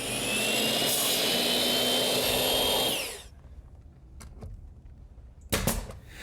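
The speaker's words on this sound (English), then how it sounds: "we begin cutting decorative molding for the face of the surround" Power tool cutting decorative wood molding for a fireplace surround in a basement workshop: a loud, steady whine for about three seconds that stops abruptly, followed by a few faint clicks and a short clatter.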